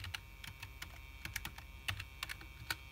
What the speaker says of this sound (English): So here, you need to type in your password that you made earlier.